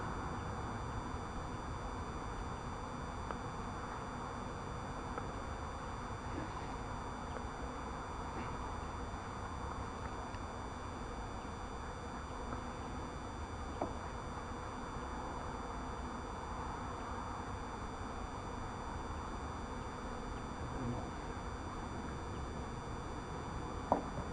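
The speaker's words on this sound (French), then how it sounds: "Ouais, là il y a plus d'abeilles." Bees hum in a steady, low drone around a newly installed hive, a continuous buzz that stays even for the whole stretch with no talk over it.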